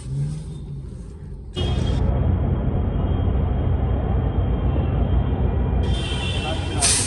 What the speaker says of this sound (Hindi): देखना पिकअप भी नहीं ले पा रही सारी गाड़ी